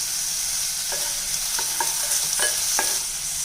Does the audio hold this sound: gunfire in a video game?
no